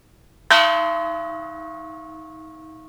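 A Japanese temple bell is struck once, nearby and loud, ringing out with a clear metallic tone and a long, slowly fading hum, with nothing else heard.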